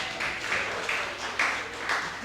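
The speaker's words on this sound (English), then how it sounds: "Round of applause for him again" Faint audience applause at an anti-bullying panel discussion, a soft, steady patter of clapping heard from some distance in a large room, with no voices over it.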